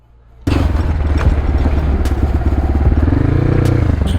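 A motorcycle engine abruptly cuts in close by and keeps running loudly and steadily with a rough, rattling low throb as the bike is readied for a ride.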